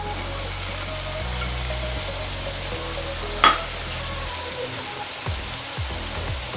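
Ground beef, onions and frozen corn fry in a pan with a steady, soft sizzle, close by, with one brief clink partway through and no talking.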